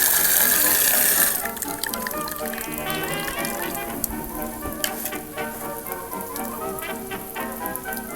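Hot water from a water heater runs and splashes into a pot, a loud hiss at first that settles into steady trickling and dripping with small bubbling splashes, close by.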